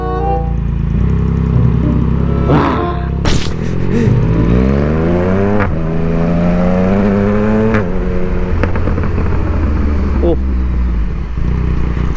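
A Yamaha MT-09 motorcycle engine revs hard while being ridden, loud and close, with repeated rising pitch sweeps through the gears and drops at each shift over constant wind and road roar.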